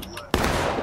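A sudden musket volley in a Reno's Fall Civil War skirmish game, a single sharp crack that opens into a sustained roar of scattered firing.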